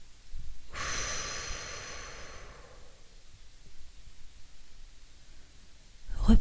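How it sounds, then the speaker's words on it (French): A slow, deep breath drawn in through the nose and released through the mouth, heard close and soft as a broad hiss of air that swells, then fades into quiet, with a faint voice stirring at the very end. "Prenez une profonde inspiration par le nez en gonflant le ventre. Puis soufflez par la bouche en le laissant redescendre."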